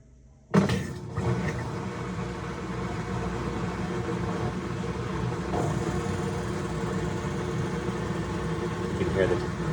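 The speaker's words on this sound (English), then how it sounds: "You can hear the motor. It's trying to turn." A GE top-load washer motor (GTW460ASJ) hums and strains steadily under load while the drum fails to turn, with a continuous low drone, a sudden onset and some rattling, as people talk over it.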